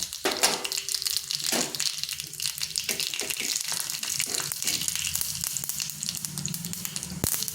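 Whole cumin, a dried chili and black mustard seeds sizzling and crackling in hot oil in a pan, a steady close frying hiss with scattered sharp pops throughout.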